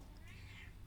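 A cat meows in a fantasy role-playing game, one short, faint, drawn-out call over low background game ambience.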